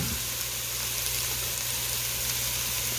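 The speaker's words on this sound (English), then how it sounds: "I'm going to stir this up and it'll help bloom these herbs since they're dry" Dried marjoram and oregano sizzle steadily in a soup pot as they are stirred, a constant close frying hiss with no talk.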